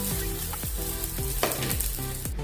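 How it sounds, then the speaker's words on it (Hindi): Okra (bhindi) frying in a kadai, a steady close sizzle running without a break alongside some tonal sound. "थोड़ी देर हमने इसको भून लिया है।"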